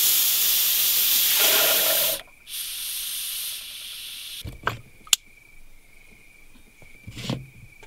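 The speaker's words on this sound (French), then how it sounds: "je vais mettre un petit coup de nettoyant frein" Brake cleaner sprays in a loud, steady hiss from a can during car brake work, then cuts off, leaving quieter clicks and short bursts of handling noise.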